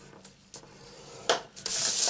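Cardstock is scored for a Stampin' Up box, giving a few quiet, brief scraping strokes that end in a louder, longer rasp.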